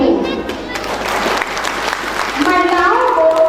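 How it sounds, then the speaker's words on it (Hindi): An audience claps loudly and continuously at a women's empowerment and Holi gathering of the Kanyakubja Brahmin Mahasabha in Ramgarh, with dense applause throughout and a voice coming in over it toward the end. "खुशबू देवी जी के लिए एक जोरदार तालियां हो जाए।"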